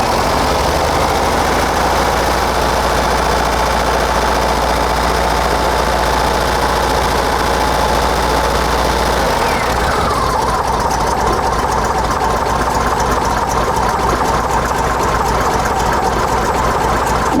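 A 1971 VW Squareback engine fitted with dual carburetors idles close and loud with a steady, even rumble, its tone shifting slightly about halfway through. No one speaks.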